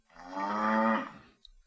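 A single drawn-out cow moo, clear and close, plays from the Piano Kids Music and Songs game app, followed by a faint click.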